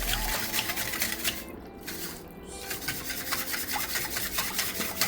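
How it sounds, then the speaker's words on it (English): A whisk scrapes and rubs rhythmically through a sweet potato pudding mixture in a bowl, with steady repeated strokes close up and no talking. "Then you just whisk everything out."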